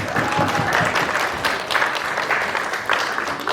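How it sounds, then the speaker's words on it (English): A magic-show audience applauds as a volunteer is called up on stage, steady dense clapping filling the room throughout with a few voices rising over it. "Yes, give him a round of applause."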